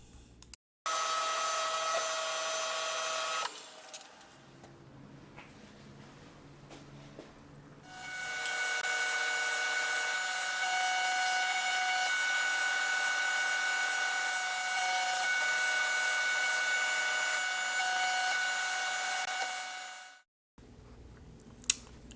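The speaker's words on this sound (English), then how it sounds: "I can mill the angle for the dovetail." A milling machine cuts dovetail angles into workpieces held in a vise. It gives a steady, loud, whining run of about twelve seconds, after an earlier short burst of cutting and quieter mechanical sounds.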